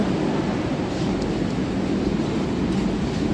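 A metro train rolls into a station platform on the Kolkata Metro, a loud, steady rumble and hiss of wheels and motors filling the whole stretch, with no voices.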